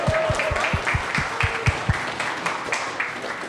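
A crowd at a demo day claps for students, a loud burst of applause with a few strong rhythmic claps standing out before it fades into a softer wash.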